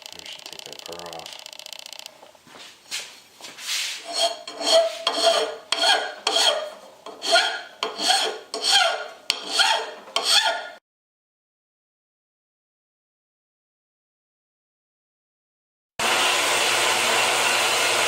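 Hand file rasping a burr off a metal piece of a homemade two-piece vise, about a dozen rhythmic, scratchy strokes, then sudden silence before a steady noise starts.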